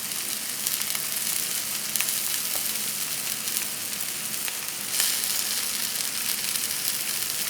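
Beef tips fry in a Teflon pan over a raised flame, a loud, steady close sizzle with small pops and a brief surge partway through, no talking.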